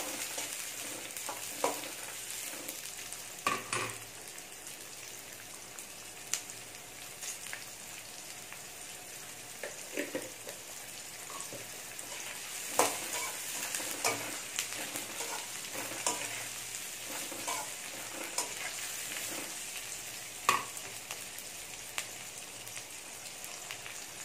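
Four green chillies, broken in half, fry in a pan of oil while a crab curry is being prepared. A steady close-up sizzle runs throughout with scattered sharp crackles and pops, and there is no talking.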